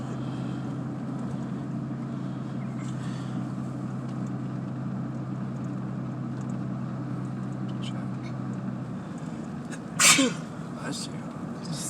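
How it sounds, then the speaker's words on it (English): A single sharp sneeze bursts out near the end, close by, over a constant low engine hum and faint background talk. "You sneezed on me."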